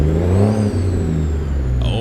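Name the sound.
diesel truck engine revving in video game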